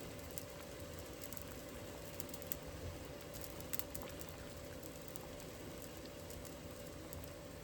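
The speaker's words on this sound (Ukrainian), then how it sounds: "Ой, сильно кипить, трошки прикрутю." Quiet, steady bubbling and crackling of a pot of zucchini boiling hard on a stove for pickling, with faint hiss and a constant low hum underneath.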